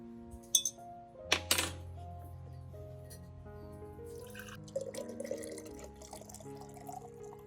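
Rice water drips and trickles as cooked rice is strained, with a couple of sharp clinks and splashes near the start and then softer irregular drips and small pours nearby, and no one speaking.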